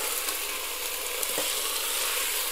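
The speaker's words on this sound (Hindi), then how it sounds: "अपने कीमे को हम अच्छी तरीके से इसमें भून लेंगे।" Half a kilo of mutton keema frying in a pan gives a loud, dense, continuous sizzle with no voices over it.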